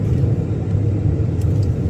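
A Tata Punch car drives along and takes a turn, giving a steady low engine rumble and road noise from inside the cabin, even and unbroken, with no talking.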